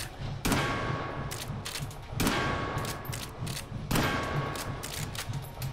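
Repeated gunshots in the VR shooter Hot Dogs, Horseshoes & Hand Grenades on HTC Vive, sharp loud reports fired at irregular intervals, three heavy blasts each followed by quicker follow-up shots, with no talking.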